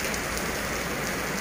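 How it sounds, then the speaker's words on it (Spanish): Heavy rain from Hurricane Nora in Acapulco pours down as a dense, loud, unbroken hiss of drops hitting surfaces, with nothing else heard. "me gusta la lluvia, me gusta ver llover"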